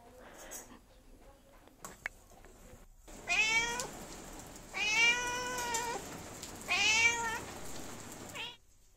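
Three drawn-out meows from a nearby cat, each rising and falling, spaced a second or two apart over quiet background noise.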